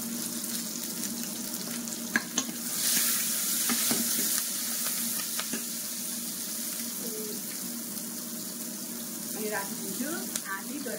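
Onions fry in a pan for mushroom curry, giving a steady close sizzle with scattered clinks and stirring scrapes, and a person talks softly over it at times.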